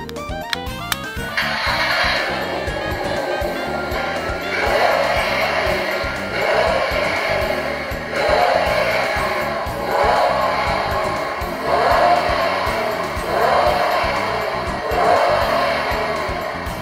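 Electronic engine sound effect from a 1/8 scale Nissan GT-R NISMO (R35) model kit: a click, then a steady synthesized engine drone with periodic revving swells, continuous and loud for about fifteen seconds.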